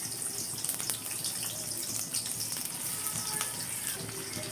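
Chopped onion sizzles in hot soybean oil in a kadai, a continuous bright crackling hiss with small popping bursts, fairly close and steady, with no talking.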